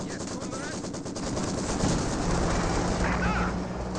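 Rapid machine-gun fire from a Maxson halftrack in the strategy game Company of Heroes, a dense, continuous rattle of bursts mixed into loud battlefield noise that swells slightly midway.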